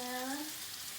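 Mushrooms go into a pan with a white wine sauce for veal scallopini, giving a soft, steady sizzle that sits low in the mix and continues alone for about a second.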